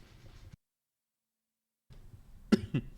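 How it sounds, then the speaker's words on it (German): A single sharp cough, fairly close, breaks a short stretch of quiet, followed by a smaller second cough. "Sorry, ich musste husten."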